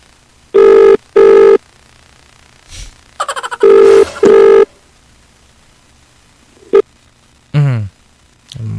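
A phone call is placed again, with loud, close electronic ringing in separate bursts, a few brief beeps and a falling tone toward the end, no talking.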